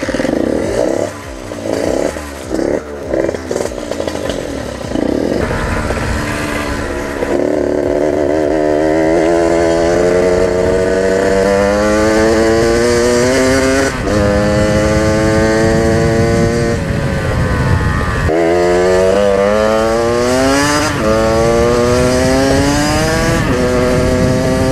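A Rieju MRX 50cc moped engine runs on a test ride. It opens with a few choppy blips, then climbs through a series of loud, buzzing revs that rise, drop and rise again, like a two-stroke pulling up through the gears.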